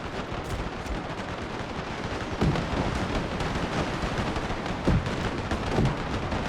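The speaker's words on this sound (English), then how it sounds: "there's plenty of fire going down here with the Gatling guns" Gatling gun fire in Total War during an Anglo-Zulu War battle at a British fort, a dense continuous rattle of rapid shots with a few louder bursts standing out, no voices.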